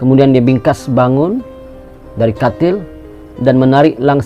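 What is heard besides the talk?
No distinct noise like a dog, phone or traffic.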